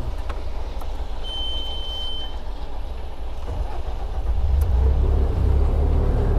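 Bobcat M-series loader engine idling, a low diesel rumble that grows louder and heavier toward the end, with a brief high beep early on and no talk.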